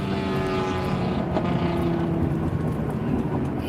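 A loud small speed racer car drives fast nearby, its engine a steady buzzing drone with tonal whine heard over road and wind noise from inside a following vehicle.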